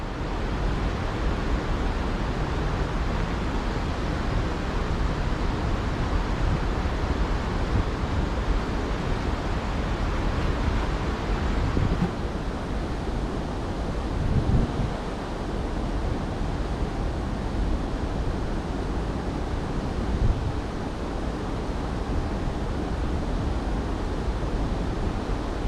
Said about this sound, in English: The wind's blowing it.